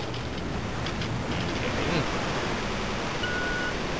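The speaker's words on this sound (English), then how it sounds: "Why can't we just walk through the waterfall?" A waterfall in the Resident Evil 2 video game roars with a steady, broad rushing wash of water, continuous and fairly close.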